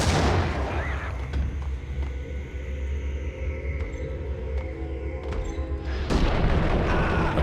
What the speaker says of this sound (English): Then a grenade.